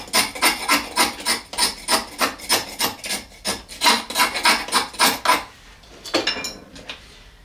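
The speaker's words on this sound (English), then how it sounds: "Scrape a bunch into a pile." Hardened pine sap is scraped into a pile with a blade, a rapid series of about twenty rasping strokes in a steady rhythm, close and fairly loud, ending with a few softer scrapes.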